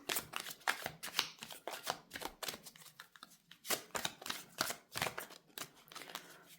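Tarot cards are shuffled by hand in close, quiet bursts of riffling and flicking, a string of crisp papery rustles with brief pauses between them.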